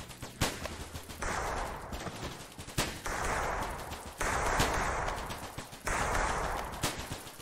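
A shotgun fires in a first-person video game, with about five loud, sharp blasts at a steady pace. Each shot is followed by a sustained hiss-like roar, all close and alone.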